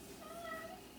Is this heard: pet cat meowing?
yes